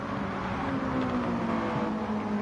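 Race car engines from a GT1 racing video game drone steadily at high revs, a continuous faint whine with no talk over it.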